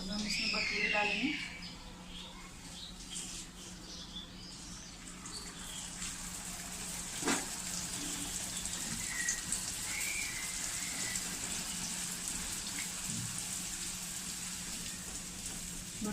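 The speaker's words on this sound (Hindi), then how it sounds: "तो तेल गरम हो गया है। अब हम इसमें भटूरे डालेंगे।" Bhature dough sizzles in hot oil, a steady, soft crackling hiss like light rain that carries on evenly, with a faint clatter near the start.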